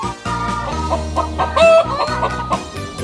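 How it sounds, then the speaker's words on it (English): A farm chicken clucking loudly and close, a series of short, rapid clucks in an uneven rhythm, with no other sounds around it. "Number 5. Chicken."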